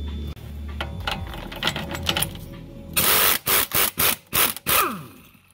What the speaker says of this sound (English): I'll stick my impact on there, and it should zap off really nice and easy